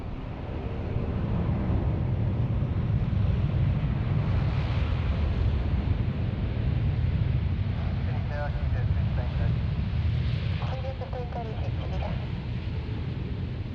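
Airliner engines roar during a morning takeoff at Sydney Airport, a broad, steady, loud rumble with wind-like noise that swamps everything else, with faint radio chatter briefly audible beneath.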